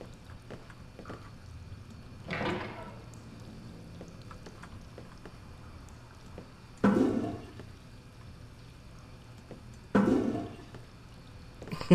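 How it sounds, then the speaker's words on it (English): Toilets flushing in the remastered video game Fahrenheit: Indigo Prophecy, three separate whooshing flushes spaced several seconds apart over a quiet room background. "Flushing the toilets is all good fun."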